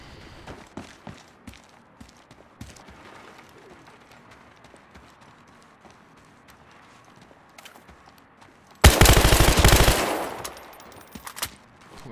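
Gunfire from the Battlefield Hardline video game: sparse, scattered shots and clicks through most of the span, then one loud, sustained burst of rapid fire near the end that fades out.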